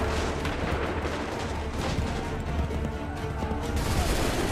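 A musket volley roars in a dense, continuous barrage of overlapping gunfire and booms in the Assassin's Creed 3 game, loud and close throughout with no clear speech.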